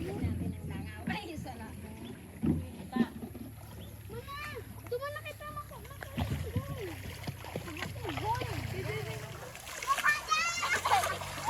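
Children splash and play in shallow, cold spring water at a farm, scooping it with dippers, with bursts of splashing and lively kids' voices and shouts throughout, near and fairly loud.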